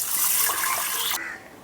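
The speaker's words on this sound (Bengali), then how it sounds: "এখন জল দিয়ে ডালটাকে সেদ্ধ করে নেব।" Water pours steadily into a pressure cooker onto mung dal, a brief close splashing gush that tapers off.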